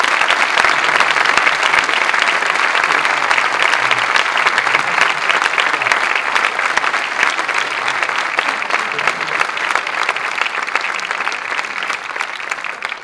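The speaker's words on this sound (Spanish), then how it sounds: "berto Pico, jefe nacional de fe de las JONS, a los que recibís con un gran aplauso." Sustained, loud applause from a large audience at a Falange Española y las JONS anniversary gathering, steady dense clapping for about thirteen seconds with no speech over it.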